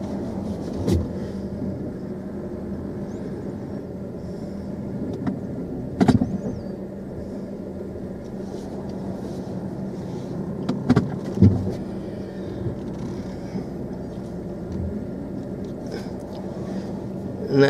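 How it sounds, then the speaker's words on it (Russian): A car drives slowly into an enclosed underground parking garage beneath an apartment building in Harish, giving a steady, loud, reverberant engine and road rumble with a few sharp knocks and thumps along the way. "Сейчас мы поставим машину."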